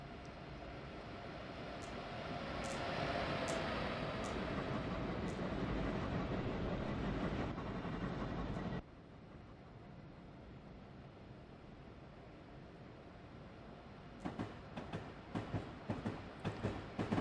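Electric locomotive ACS-64 in the video game Train Simulator 2016 runs steadily with a broad rumbling roar, then drops to a quieter hum with sharp clicks and rattles toward the end.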